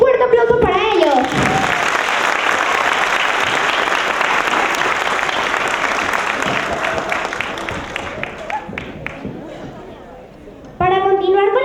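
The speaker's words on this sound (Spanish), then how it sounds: "Un fuerte aplauso para ellos" Strong applause from a school audience for student presenters, dense clapping and crowd noise filling most of the stretch before thinning out, with speech heard at the start and a voice resuming at the end.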